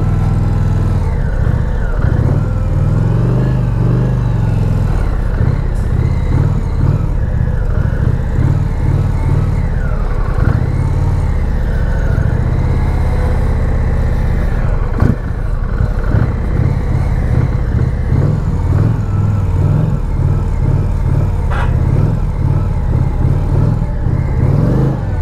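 A cruiser motorcycle engine, Indian Challenger or Harley-Davidson, running steadily while riding on open roads, with a loud, continuous low rumble and wind noise throughout and only mild shifts in throttle.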